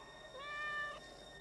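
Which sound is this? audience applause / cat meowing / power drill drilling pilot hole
cat meowing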